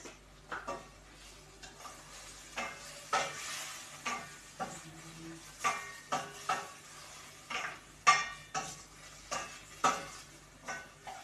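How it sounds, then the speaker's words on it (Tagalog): Pancit noodles stirred in a pan, a series of roughly a dozen scraping, clattering utensil strokes at an uneven rhythm over a faint background sizzle, close up with no talking. "haluin natin"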